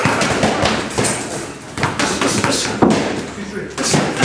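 Rapid punches on a double-end punching bag in a boxing gym, sharp thudding hits in an uneven rhythm, loud and close, with a voice talking over them.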